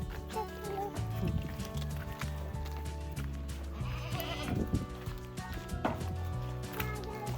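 A goat bleats on a farm, with several wavering calls against a background of voices and other outdoor noise.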